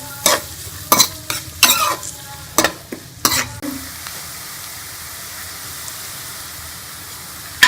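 Onions sizzle in hot oil in a kadhai, with a steady frying hiss under several sharp scraping stirs of a spoon early on, then the sizzle continues more quietly on its own.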